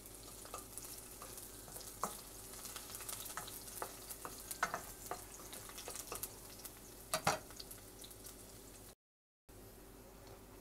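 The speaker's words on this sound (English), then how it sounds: "Naglagay na ako ng garlic." Garlic sautés in hot oil in a kawali, giving a soft, steady sizzle with scattered stirring scrapes and clicks throughout, fairly faint and with no talking.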